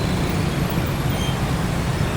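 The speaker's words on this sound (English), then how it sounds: "I don't need to mention the traffic again." Dense street traffic in Saigon forms a continuous, loud roadway wash of engines and tyres with no distinct single vehicle standing out.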